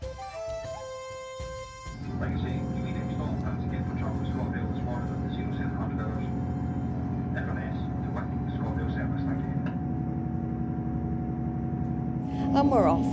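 A passenger train departs on the Far North Line, its engine starting at about two seconds into a steady, close drone that builds slightly at the end; a voice talks over the quiet start.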